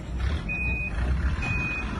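A truck at an outdoor event gives two spaced reversing beeps, clear and fairly loud over a constant low engine rumble, with no talking.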